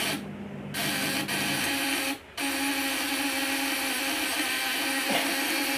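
Electric shock device with platinum contacts set to high power gives a steady, loud buzzing hum that runs continuously, briefly dropping out twice before resuming.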